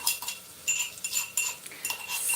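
A metal spoon clinks and scrapes against a pan as garlic-ginger paste goes in while khichdi cooks, a string of short, bright taps and stirring scrapes, close and fairly quiet, with no speech.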